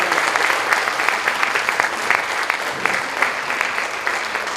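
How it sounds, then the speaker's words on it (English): Audience at a school band spring concert gives students a round of applause: dense, close clapping with sharp individual claps standing out, steady for several seconds. "let's give these students another round of applause"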